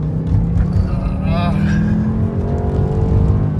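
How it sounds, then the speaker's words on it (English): A BMW E60 M5 engine rumbles loudly from inside the car as the driver downshifts from third to second, with a rising rev blip in the middle over a steady low drone, while someone talks over it. "So third gear, boom, down into second."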